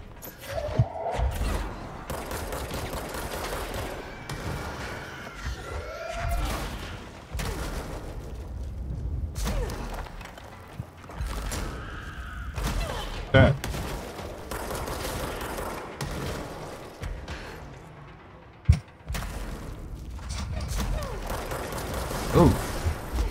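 Gunfire in the game Control bursts out in scattered shots and heavy thuds across a large boss-style room, mixed with mechanical creaks and rumbles, intermittent and sometimes sharp, with a voice talking at points.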